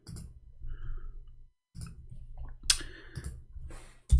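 Computer keyboard keys click in short bursts of typing, quiet and close, with a pause of silence partway through and a sharper cluster of clicks near the end.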